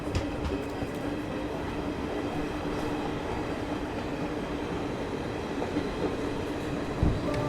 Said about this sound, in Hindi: लेकिन उतने में ही ट्रेन जो है वो निकल दी